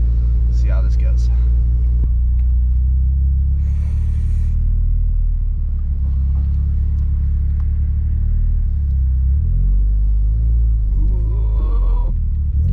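Mitsubishi Lancer Evolution X with a low front lip easing out of a driveway, its engine a steady deep rumble throughout with a slight rev near the end, close and loud, with a voice talking over it.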